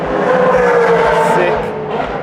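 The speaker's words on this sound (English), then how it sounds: "Sick race spec S13 from Technical Factory Blind." Race-spec Nissan S13 on track in a Japanese Idlers race series event, engine roaring loud and close with tire squeal and a surging pass, continuous over the whole moment, with a voice talking over it.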